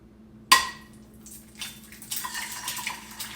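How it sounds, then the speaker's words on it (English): Eggs hit a hot pan at about 350 degrees with a sharp splat, and a soft sizzle follows that swells into a fizzing crackle over a faint background hum. The sound is close, and no one speaks. "listen to that sizzle"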